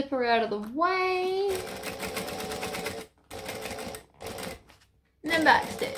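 A sewing machine back stitches along a bag seam in several quick whirring bursts separated by short pauses, after a brief voice at the start.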